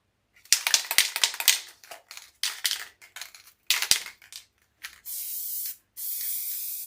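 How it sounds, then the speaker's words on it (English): Spray adhesive hisses from an aerosol can onto a craft cutout, two sustained bursts near the mic after a run of crisp crinkling and tapping sounds. "I'm going to put some spray adhesion"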